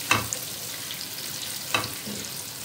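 Finely chopped onion frying with cumin and fenugreek seeds in a pan, a soft, steady hiss of sizzling broken by a couple of sharp utensil clicks.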